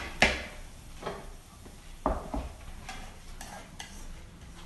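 Water dropwort (minari) stir-fried briefly in a pan: soft sizzling under repeated scraping and stirring strokes of a utensil against the pan, a few sharper clanks spaced irregularly, close and moderately quiet.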